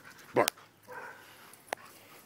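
A dog playing outdoors gives one short, sharp bark, followed by a quiet whine and then a smaller yip.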